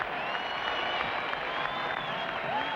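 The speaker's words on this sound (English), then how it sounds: "The sellout crowd urges the Lakers to get back in the hunt." Sellout arena crowd at a 1980 NBA Finals Lakers basketball game, a dense sustained roar of cheering and applause that fills the space evenly throughout, with an announcer's voice faintly over it.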